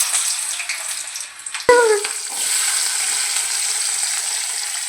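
Garlic and ginger dropped into hot oil for a Kottayam-style fish curry, giving a sudden close burst of sizzling that settles into a steady, loud hiss of frying.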